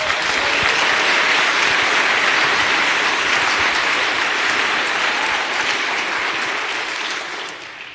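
Loud, sustained applause from a large audience fills the room without a break, holding steady before tapering off slightly at the very end.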